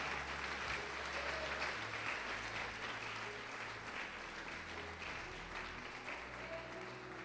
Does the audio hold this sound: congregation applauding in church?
yes